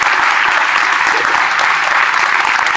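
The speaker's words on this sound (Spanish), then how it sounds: "También pido por favor un gran aplauso" Steady, dense applause from a gathered audience honoring Alberto Rodríguez, builder of the altar, loud and continuous without a break.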